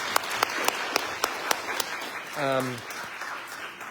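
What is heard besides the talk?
audience applause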